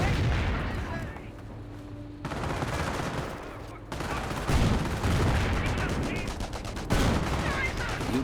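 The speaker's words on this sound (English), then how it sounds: "Wehrmacht sniper counter sniping" Sniper rifle fire during a Company of Heroes match between Wehrmacht and US forces, sharp cracks recurring at irregular intervals over a dense bed of battlefield gunfire and booms, with some speech mixed in.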